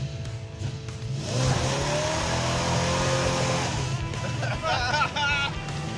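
A 1971 Plymouth Duster drives an autocross course, its engine loud and steady close by as it accelerates, with tires squealing now and then and people talking over the noise.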